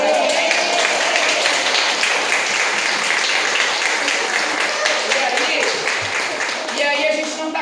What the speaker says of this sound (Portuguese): Mas as palmas inclusivas